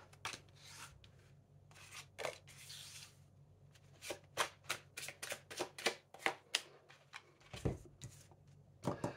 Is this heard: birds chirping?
no